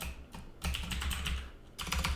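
Fingers type on a French computer keyboard, close, rapid clattering keystrokes in two bursts split by a short pause, with no talk.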